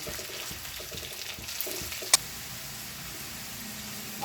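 Pieces of taro root (arbi) fry in oil in a pan until browning, a soft continuous sizzle with faint clinks and one sharp utensil tap midway.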